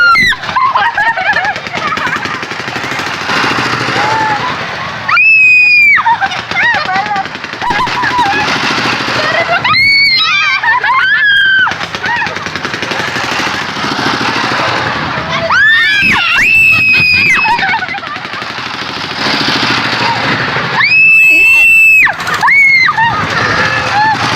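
People riding a kora-kora swinging boat ride at Blang Padang in Banda Aceh scream in loud, rising bursts every five or six seconds, matching the swing of the ride. Between the screams there are rumbling ride noise and voices.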